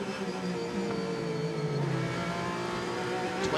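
A Porsche race car holding full throttle through a right-hand corner at Spa-Francorchamps during endurance qualifying, a steady loud engine drone with slowly shifting pitch and no breaks, heard alone.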